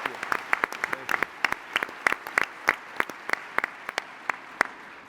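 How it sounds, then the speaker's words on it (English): Sparse, distinct claps ring out in a large hall during a startup competition finals, individual hands clapping at an uneven rhythm with some echo rather than a dense crowd roar. "How about a round of applause for all 10 of our companies today?"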